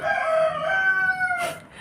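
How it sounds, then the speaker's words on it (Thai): A chicken crows close by, a single drawn-out, wavering call lasting most of the moment before trailing off into a brief rustle. "เสียงไก่มาบ่อยมากอะจริง"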